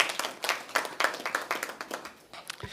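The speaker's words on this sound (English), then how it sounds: "And we should give her a round of applause for her efforts." Audience members at a press conference give a round of applause, a scattered handful of distinct, sharp claps at close range that thin out and fade toward the end.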